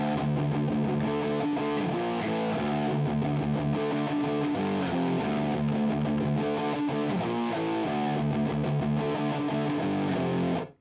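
A second electric guitar adds distorted power chord fills under a continuous, heavily overdriven rock riff, dense and steady at moderate level before cutting off abruptly at the end.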